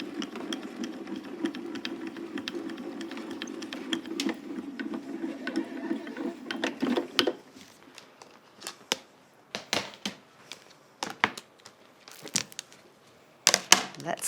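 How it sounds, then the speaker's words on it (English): A die-cutting machine runs a pink embossing plate and embossing mat through its rollers to emboss a bow, giving a steady low grinding crank, followed by a string of sharp clicks and knocks as the plates are handled. "put our embossing mat over it, and then run it through"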